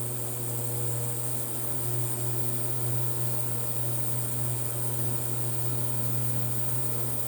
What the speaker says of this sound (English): I'll go ahead and bust out the Harbor Freight supercharged ultrasonic transducer, ultrasonic cleaner, whatever